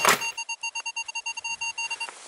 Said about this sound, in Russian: А сигнал, ребята, реально приятный.